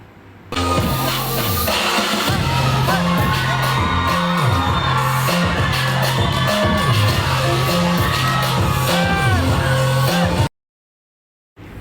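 Audience at a dance performance screams and cheers nonstop, a loud, dense crowd roar over pulsing music with a repeating bass pattern, cutting off abruptly near the end.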